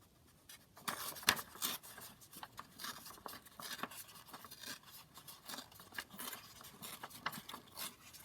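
Paper strip torn by hand for an altered-book junk journal, a quiet close sequence of short crisp rips and rustles with small pauses, no talking.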